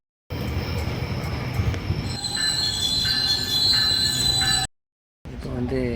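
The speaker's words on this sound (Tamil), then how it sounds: "இப்போ வந்து ட்ரெயினில் ஏறிட்டோம்." A Toronto GO double-decker train rolls along with a loud, constant rumble and piercing, sustained wheel squeal, briefly cutting out near the end before resuming.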